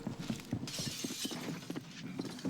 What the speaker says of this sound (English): you can then hear the shards of glass smash a little bit more as he goes back through that window